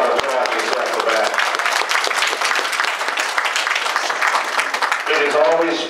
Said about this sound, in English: You ought to clap yourself for that.